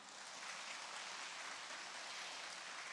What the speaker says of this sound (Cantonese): 請大家以熱烈嘅掌聲歡迎各位主禮嘉賓上台。